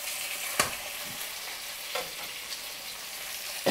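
Bite-sized beef pieces stir-frying in a hot pan for a Lao ginger beef dish, with a steady hiss of sizzling oil broken by a few scraping stirs and clinks.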